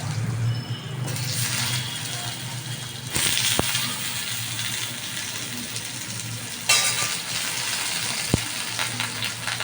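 Diced potatoes dropped into hot oil with cumin, cloves and whole garam masala: steady frying sizzle that surges louder at two points as pieces go in, with a couple of sharp utensil clicks.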